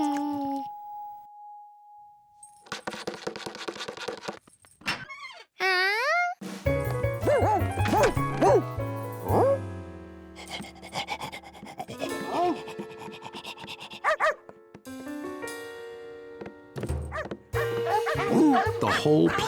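Cartoonish dog barks and yips come in short bursts, mixed with playful music and sliding whistle-like tones.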